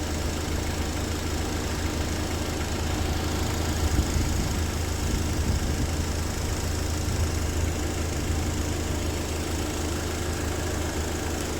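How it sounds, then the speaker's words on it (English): A 2005 Honda Accord engine idles with the air conditioning blasting at full and its compressor running, giving a steady, close, continuous hum and rumble with no change in rhythm and no talking. "I can sense that my compressor is running as well."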